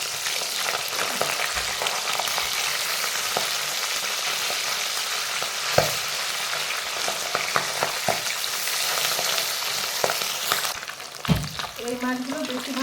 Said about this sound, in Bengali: এই মাছগুলো বেশি ভাজা যাবে না,